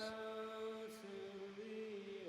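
A sustained sung vocal note with a smooth, washy reverb tail, holding steady pitch with slight glides, alone and moderately quiet.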